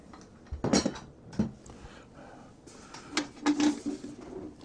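A metal lid comes off a military ammo can, with a few close clanks and scrapes, one sharp metallic knock early on and a cluster of rattling clatter toward the end.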